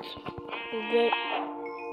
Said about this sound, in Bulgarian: О, овца!